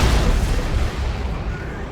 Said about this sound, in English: There's the Demolisher Cannon.